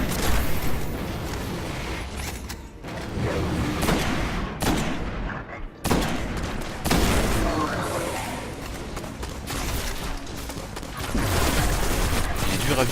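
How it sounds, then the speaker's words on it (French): Rapid rifle fire in the Destiny video game, loud dense bursts of shots and booming impacts nearly filling the stretch, with a brief gap midway. "Il est dur à viser, tu vois, parce que il bouge beaucoup quand on tire."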